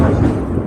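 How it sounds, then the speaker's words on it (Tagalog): Thunder rumbling during a storm, a loud, continuous low roar filling the whole short moment with no clear break. "kita niyo yung kidlat?"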